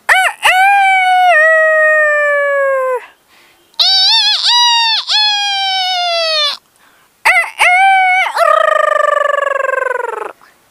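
A person vocally imitates a rooster's cock-a-doodle-doo crow, three loud, close, sustained calls separated by brief pauses, with no other sounds.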